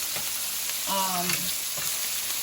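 A ribeye steak pan frying toward medium well hisses with a loud, steady, close sizzle throughout, briefly joined by a thin whistling squeal midway.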